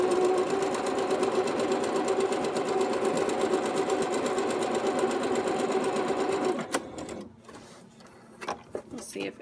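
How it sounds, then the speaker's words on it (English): A Singer One sewing machine runs a stitch through fabric, a steady close mechanical whir with rapid needle rhythm for most of the clip, then stops abruptly, leaving quieter clicks and handling sounds. "So I'm going to actually run a stitch right along that"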